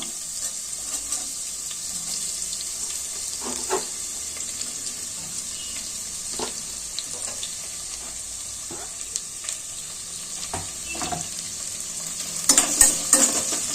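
Long-cut sliced onions frying lightly in a pan for a green coriander-mint pulao, a soft steady sizzle with occasional spoon scrapes and stirs, and a brief louder clatter near the end; no talking.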